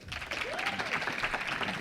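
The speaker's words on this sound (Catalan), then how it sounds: "Aplaudiment." Audience applause at a live show held at a university faculty, a brief, dense burst of many hands clapping with a murmur of voices mixed in, fairly close and steady throughout.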